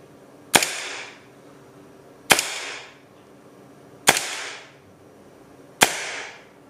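A Secutor Rudis airsoft gas pistol fires four sharp, evenly spaced shots about two seconds apart, each a crisp crack with a short hissing tail, close and loud with no talk.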